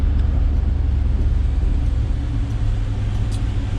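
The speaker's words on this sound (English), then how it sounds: "I got the defroster on high, you can probably hear it" Defroster fan blowing on high inside a cheap old 4x4 truck, a loud, steady low rumble and whoosh filling the cab with no break.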